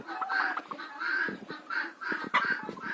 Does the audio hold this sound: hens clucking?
yes